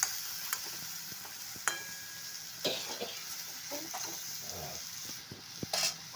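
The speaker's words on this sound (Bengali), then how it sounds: "এবার আরেকবার নেড়ে নেওয়া হচ্ছে মশলাগুলোর জন্য" Potato and bean curry with spices is stirred in a pan, soft scraping and faint sizzling under a low background, with a few brief clinks and knocks.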